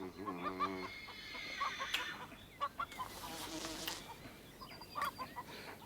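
Hens cluck and birds sing outdoors on a Swedish farm at Lönneberga, a few bright chirps and clucks scattered through buzzing insects and low ambient noise, with no talk.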